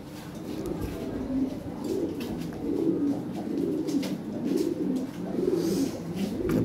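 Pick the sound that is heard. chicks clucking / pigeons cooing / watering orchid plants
pigeons cooing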